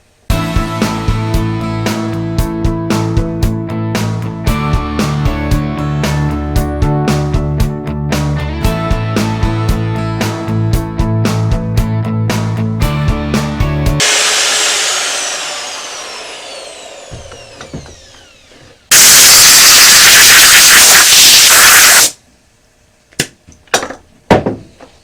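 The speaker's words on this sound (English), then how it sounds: "So let me route these out, and I'm going to route these out at 1 inch deep." Router cutting inch-deep pickup pockets into an oak pallet wood guitar body, heard as one loud harsh roaring burst of about three seconds, followed by a few sharp knocks, after a long stretch of rhythmic clattering.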